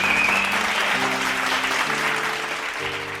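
Applause from a church audience during a Tamil faith sermon, a steady wash of many hands clapping at full loudness that thins slightly toward the end, with no speech over it.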